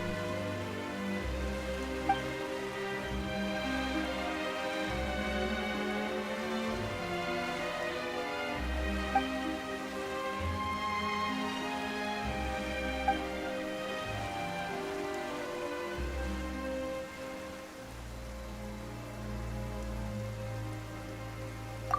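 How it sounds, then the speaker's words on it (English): Rain falling in the video game Genshin Impact, a steady, even patter that lasts throughout over soft, sustained background game music. "Why is it raining all of a sudden?"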